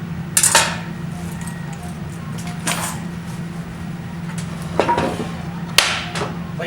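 A table saw fence being tapped into position in a woodworking shop, four sharp, separate knocks spaced a second or two apart over a low steady hum.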